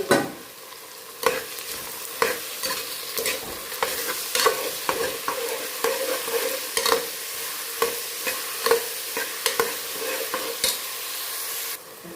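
Chopped onions and curry leaves fry in a pan for beef vindaloo, a sharp burst of sizzle opening into continuous frying broken by frequent loud scraping stirs in an uneven rhythm that ends abruptly.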